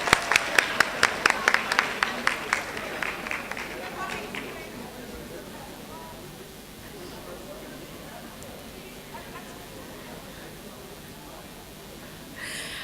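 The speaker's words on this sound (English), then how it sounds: "I think we should give her a clap." A short burst of audience applause in a health talk setting, with sharp, evenly spaced claps ringing out for about four seconds before fading into quiet room noise and murmuring.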